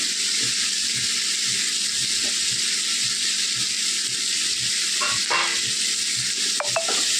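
Curry leaves and coriander frying in a pan give a loud, dense, steady sizzle, with soft periodic stirring strokes and a couple of metallic clinks near the end, close up and without speech.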